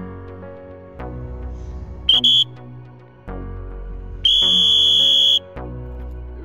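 Sharp shrill whistle blasts at a sprint running practice, one short double blast followed later by a longer sustained blast, loud and close over low background noise.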